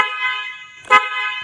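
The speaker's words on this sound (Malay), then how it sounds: "kita tekan horn, akan ada bunyi lah" A vehicle horn wired into a simple electrical lighting circuit project sounds as one steady, loud, buzzy honk lasting over a second, nearby and alone.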